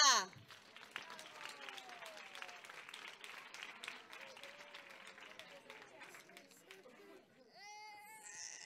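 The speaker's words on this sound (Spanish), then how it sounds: "Un fuerte aplauso para Sofía" An audience at a school end-of-year festival gives a child a round of applause, soft, scattered clapping mixed with children's high voices and a brief cry, fading toward the end as someone speaks.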